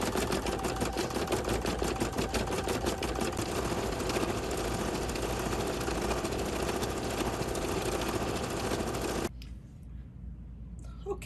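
A computerized embroidery machine stitching the underlay layer of a key fob design, with a rapid, steady mechanical chatter that runs for about nine seconds and then stops abruptly, leaving a quiet room.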